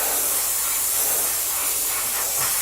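Airbrush spraying paint during a basic airbrushing session, a steady continuous hiss of compressed air and atomized paint, close and loud, running without pause and with no talking.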